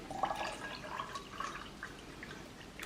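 Water poured into a 24-hour UK military ration pack drink powder, a faint, light trickling and dripping pour with small splashy bursts, steady and quiet throughout with no voices.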